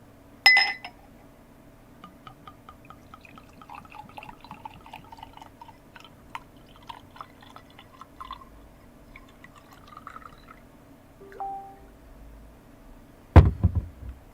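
An ice wine glass clinks sharply as it is picked up, followed by quiet scattered taps and rustles of handling, then a louder knock as the glass is set down on a surface near the end.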